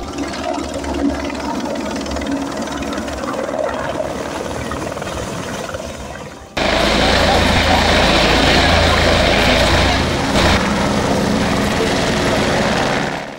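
Helicopter engines and rotors roar nearby at the Kedarnath helipad, growing abruptly louder midway into a heavy, steady whine and thrum.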